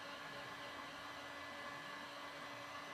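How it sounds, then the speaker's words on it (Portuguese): A heater blows a steady, even whoosh of hot air at close range onto a metal can panel for paintless dent repair, a constant hiss without breaks. "O aquecedor estava aqui na bancada. Só ligar ele."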